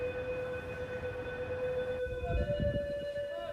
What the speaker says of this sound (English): High water warnings still sounding across the city today.